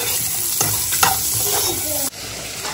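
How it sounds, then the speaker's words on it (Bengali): Onion and capsicum fry with dried chillies in a pan, a bright steady sizzle broken by stirring scrapes and a sharp knock near the end. "এখন আমি এর মধ্যে পেঁয়াজটা আর ক্যাপসিকামটা যেটা কেটে রেখে দিয়েছিলাম সেটা দিয়ে দেবো। বেশিক্ষণ না, হালকা একটুখানি ভেজে"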